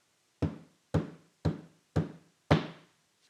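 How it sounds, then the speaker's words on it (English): Five firm knocks on a front door, evenly spaced about half a second apart, close and clear with nothing else around them. "they drove home and knocked on their front door"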